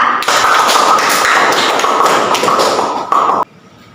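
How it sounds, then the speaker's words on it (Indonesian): Classroom applause from a group of students, a dense burst of clapping that starts sharply, holds steady and loud for about three seconds, then cuts off abruptly. "Beri aplaus dulu kepada Lala."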